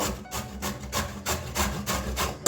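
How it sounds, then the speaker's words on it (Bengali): Raw papaya being grated by hand for a Bengali papaya ghonto with katla fish head: about seven steady, rhythmic rasping strokes, close and fairly loud, with no talk. "এইভাবে সমস্ত পেঁপেগুলো ঘষে নেব"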